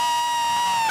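A crowd at the MTV VMAs 2022 black carpet cheers and whoops in a brief, loud burst of high-pitched voices.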